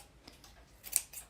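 Scissors snipping a yarn pom-pom to trim it down, with a few quiet, close cuts and one sharper snip standing out near the end.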